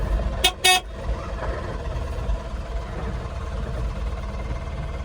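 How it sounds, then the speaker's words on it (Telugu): A vehicle arriving at a company gate gives two short horn toots in quick succession, loud and near, followed by the low steady hum of the idling engine. "హారన్ కొట్టగానే గేట్ తీయాలి."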